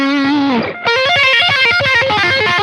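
A distorted electric guitar through a Marshall Shredmaster distortion pedal: a sustained crunchy note, then a rapid run of picked, chunky notes, loud and upfront with no voices.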